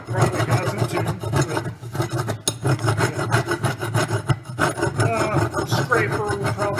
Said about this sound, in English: You'll need to scrape that up on the edge of your pry bar.